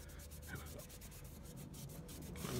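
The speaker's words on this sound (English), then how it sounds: "I'm going to rub it in with a cloth and see how that looks" An old cloth rubs exhaust downpipe cleaner into a metal downpipe, giving a soft, steady scrubbing and wiping sound at close range, quiet and continuous with no talking.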